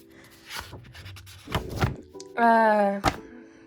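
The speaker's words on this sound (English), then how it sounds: "my chair is really squeaky and loud," Squeaky desk chair creaking indoors, a few short rubbing creaks and thunks followed by one sustained, loud tonal squeak, close to the microphone, with no talking.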